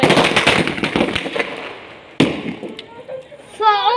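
Deepavali firecrackers burst in a dense, crackling barrage of sharp pops, then a single loud bang, with a shrill whistling rocket rising near the end; voices talk over the celebration noise.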